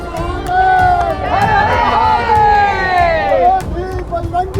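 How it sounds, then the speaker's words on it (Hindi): Crowd at an outdoor Diwali Hindu unity rally on Parliament Hill in Canada chanting together in loud, rhythmic unison, voices swelling and falling close by amid general crowd noise. "ये लोग अभी भी चैंट करें ना"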